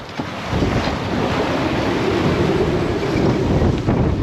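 Stormy sea around a sailing boat in heavy weather, a loud steady roar of wind and breaking waves with gusting rumble buffeting the microphone, no voices.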